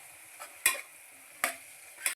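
Three brief scraping clatters of a utensil stirring a spiced prawn mixture with ginger and garlic in a pan for prawn biryani, spaced unevenly, with a low background hiss and no talking.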